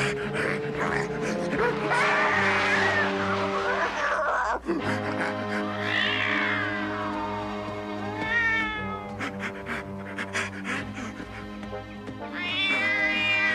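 Cartoon cat meowing and caterwauling loudly in repeated drawn-out cries over busy background music, with dog-like panting sounds mixed in.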